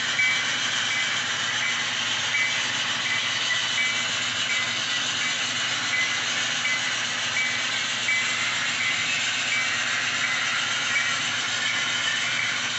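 A scale model train engine running along a home layout, heard as a steady, even motor whir with a faint hiss. The level stays constant throughout, with no breaks.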